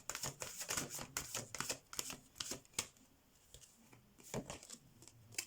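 Oracle cards being shuffled and drawn from a deck: quiet, crisp papery flicks and riffles in uneven bursts, fairly close, with short pauses between handfuls and no talking.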